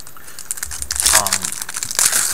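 A Yu-Gi-Oh Hidden Arsenal 3 card pack wrapper is torn open and crinkled, giving a short burst of dense foil crackling up close, with brief low murmurs of voice in the background.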